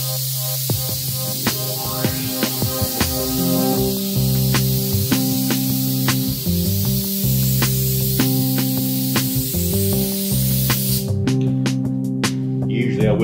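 A spray gun lays a coat of candy red paint onto a custom tank in a garage, producing a loud, sustained hiss broken by short regular pulses as the gun is triggered.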